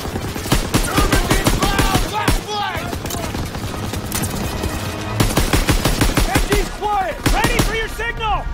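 Machine gun fire in the World War II shooter Call of Duty: WWII, on the Hill 493 mission, rattles in dense, rapid overlapping bursts with sharp echoing shots throughout, while soldiers' voices shout faintly underneath.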